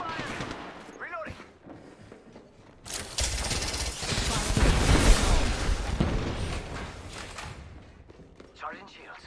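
Bursts of rapid gunfire and thuds in a video game firefight swell into a loud, dense stretch in the middle, with someone talking before and after the shooting.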